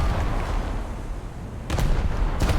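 Naval gunfire from the World of Warships game, with Scharnhorst battleship fire, comes as deep booming salvos over a steady low rumble, with a couple of sharp broadband blasts standing out near the end.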